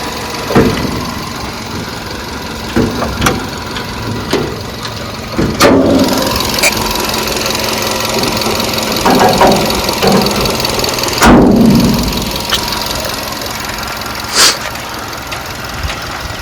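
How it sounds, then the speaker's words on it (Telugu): A 2012–2013 Nissan Sunny petrol car idles steadily with its bonnet open, a low continuous engine hum broken by occasional light clicks and knocks. "ఇంజన్ సౌండ్ అయితే మీరు వినొచ్చు"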